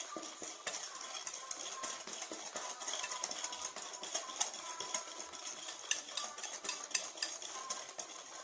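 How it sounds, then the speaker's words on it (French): Egg yolks and sugar whisked in a bowl until foamy: a quick, continuous patter of light clicks and taps, faint and close, with no voices. "on va mélanger jusqu'à ce que ça fasse une tendance mousseuse jaune sucre œuf"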